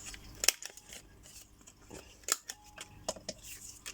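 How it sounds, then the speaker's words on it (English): Scissors cutting paper into tag shapes, sharp close snips at irregular intervals with softer rustling of paper in between. "let's just cut these into tag shapes"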